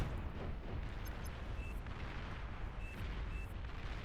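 Heavy artillery from the Tsar unit in the strategy game Beyond All Reason rumbles in a continuous, booming barrage, with dense low blasts overlapping under faint high chirps from other game effects.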